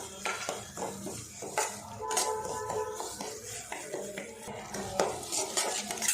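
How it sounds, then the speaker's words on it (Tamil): Semolina roasts in ghee over a low flame for rava kesari while a spoon stirs and scrapes against the pan in repeated close clinks and scuffs, with a faint sizzle underneath. "இந்த லோ ஃப்ளேம்லேயே பார்த்தீங்கன்னா நம்ம நெய்யில் நல்லா மிக்ஸ் பண்ணி"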